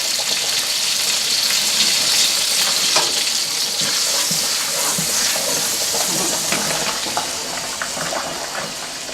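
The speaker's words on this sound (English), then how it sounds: "Just saute it just for a little bit. You don't want to burn the garlic." Garlic sautéing in a pan for a spaghetti with cherry tomatoes dish, a steady close sizzle and crackle of frying with occasional stirring scrapes, continuous with no talking.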